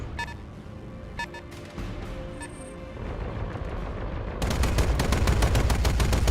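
Mech weapons firing in the BattleTech video game: bursts of heavy gunfire and booming cannon shots, rising to a loud, dense barrage of explosions in the final seconds.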